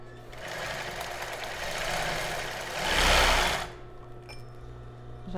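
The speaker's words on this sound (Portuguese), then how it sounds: "Agora eu vou fazer o mesmo ponto zigue-zague aqui para fazer o acabamento da alça." Sewing machine running a zigzag stitch to finish a child's bra strap, a continuous close whirring buzz that speeds up into a louder burst before stopping.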